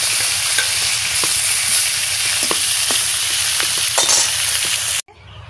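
Fish fries steadily in hot oil with a continuous loud crackling sizzle, broken by a few light utensil scrapes, then cuts off abruptly near the end.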